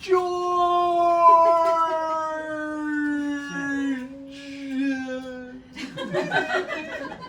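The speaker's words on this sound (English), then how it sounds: "Then the dog plunges down, his figure getting smaller and smaller as he howls out the name of his human" A dog howls as it plunges downward: one long, sustained, tonal howl that slowly sinks in pitch for about four seconds, followed by a shorter, wavering cry and a burst of rough, breathy noise at the end.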